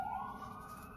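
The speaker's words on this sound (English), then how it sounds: "I live in downtown Calgary, so I apologize for the sirens." An emergency vehicle siren in downtown Calgary wails steadily for the whole second, moderately loud over a low rumble of city traffic.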